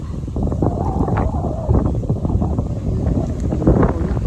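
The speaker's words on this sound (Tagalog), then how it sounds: "Ayan sobrang hangin." Strong typhoon wind roars steadily and loudly close to the microphone, buffeting it in continuous gusts with no voices over the rush.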